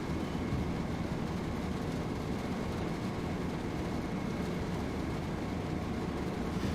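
A train running in the Train Sim World 2 video game gives a steady low rumble with a broadband wash of rolling noise, continuous and even throughout, with no talk.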